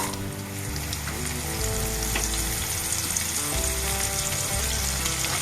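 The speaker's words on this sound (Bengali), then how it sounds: "শুকনো লঙ্কাটা একটু ভাজা ভাজা হোক ভাজা ভাজা হতে হতে আমি এদিকে গাজর বিনস দিয়ে এবার একটুখানি ভাজা ভাজা করবো" Dried chili, carrots and beans fry in a pan with a steady, close sizzle that holds even across the whole stretch, with no voices over it.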